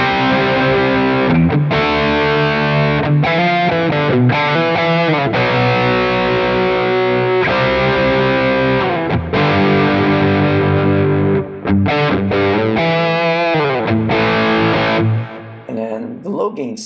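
Heavy distorted rhythm guitar on a Quad Cortex, with a boost stacked on an Archer Icon capture, chugging palm-muted riffs and chords with short stops between phrases, loud and close-miked, no talk over it.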